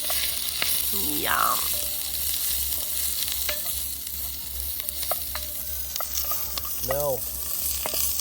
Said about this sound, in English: Got to put the things in. See that sizzle.